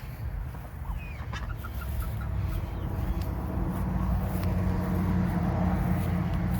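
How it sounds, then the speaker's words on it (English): Chickens cluck and fowl, including ducks, call softly on a homestead amid steady outdoor background noise, with a few brief higher chirps, no talking. "And a bunch of the chickens."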